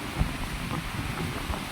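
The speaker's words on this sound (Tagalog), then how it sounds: "lumakas lang ulit yung alon, tsaka yung hangin" Strong wind and surging waves at a beach shore, a dense, rough roar of wind buffeting the microphone over breaking surf, steady and close with a sharp gust thump early on.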